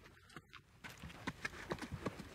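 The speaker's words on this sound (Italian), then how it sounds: "Il mio asino sta scappando." Faint, rhythmic clip-clop of a donkey's hooves running away over the ground, the quick beats continuing steadily.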